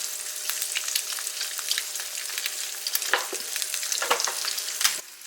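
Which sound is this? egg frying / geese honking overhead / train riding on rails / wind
egg frying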